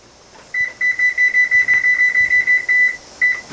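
A kitchen timer beeps in a fast regular series of about a dozen bright electronic pulses, loud and close. A short gap breaks the run, then one more beep follows.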